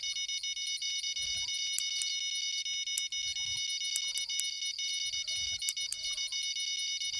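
Steady high-pitched electronic alarm tone from a fishing bite alarm in the Fishing Planet video game, held continuously at moderate loudness for the whole stretch, with low game rumble and faint chirps underneath.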